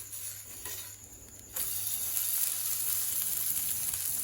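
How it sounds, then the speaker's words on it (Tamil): Oil poured onto a sweet potato adai on a hot pan sets off a sudden, steady close-up sizzle that jumps louder partway through and keeps hissing evenly to the end. "இப்போ எண்ணெய் ஊற்றிப்போம். 2வது அடையும் பிரட்டி போட்டுப்போம்."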